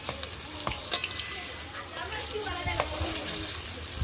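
Bottle gourd kofta frying in hot oil while being stirred, a steady close sizzle broken by scraping and turning clatters, with a voice talking over it.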